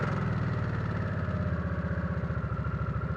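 Harley-Davidson Nightster motorcycle engine idling in neutral, a close, loud, steady low rumble with a regular pulsing beat and no talk.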